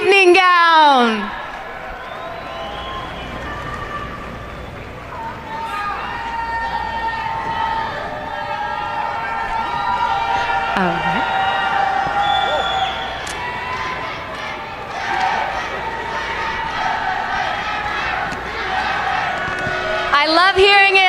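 Large audience at the Miss Universe 2024 preliminary and national costume show cheering, whooping and applauding steadily and loudly throughout, with a dense crowd roar and scattered shouts, and a presenter's voice briefly at the start and end.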